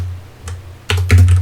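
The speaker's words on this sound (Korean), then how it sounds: "왜 이렇게 타이핑이 안 되는지" Computer keyboard typing while coding a Unity3D dodge game: a few soft keystrokes, then a quick burst of several louder, close clacks toward the end.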